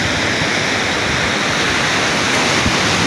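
Steady broadband roar of surf at Citepus beach, Pelabuhan Ratu, continuous and loud with no breaks or voices, like waves washing in close by.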